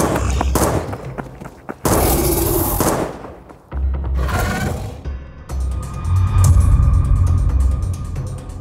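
Gunshots sound in a horror story about a soldier fighting monsters, coming as sharp, loud cracks and rapid bursts mixed with clanking, mechanical rattles and dramatic effects.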